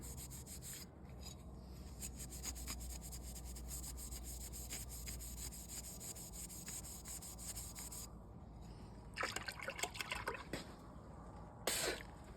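A Scotch-Brite pad scrubs an etched Damascus knife blade near the plunge line in quick, steady scratchy strokes up close, with a few louder bursts toward the end.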